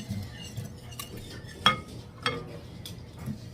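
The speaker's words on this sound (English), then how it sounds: "I'm actually going to use a little whisk and kind of whisk that around" A small whisk stirs ingredients in a bowl while making Dutch oven bread, giving light metallic clinks and scraping taps at an uneven pace, with two sharper clinks standing out against a low background hum.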